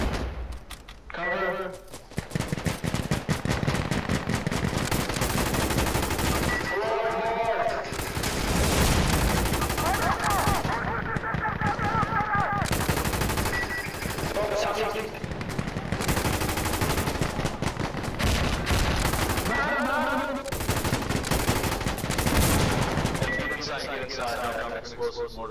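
Sustained automatic machine gun fire in the video game Insurgency Sandstorm, loud and dense bursts running nearly throughout with brief pauses, mixed with other battle noise and a voice talking over it.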